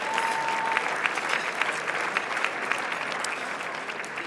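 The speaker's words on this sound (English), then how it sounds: "yes, exactly, please clap." Audience applause at a business hall of fame event, a full, sustained round of clapping from a large crowd in a hall, steady and moderately loud throughout.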